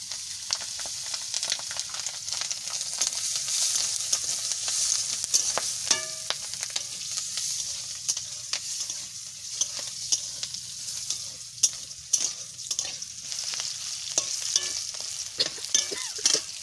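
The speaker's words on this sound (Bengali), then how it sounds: "আমি এতে রসুন আর কাঁচা লঙ্কা দিচ্ছি। কাঁচা লঙ্কা দিচ্ছি কিছু, জমের ফোঁটা ফুটবে" Garlic and green chilies frying in hot oil give a steady close sizzle with scattered sharp crackles and spits, alongside occasional stirring scrapes, with no voices.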